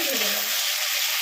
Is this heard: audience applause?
no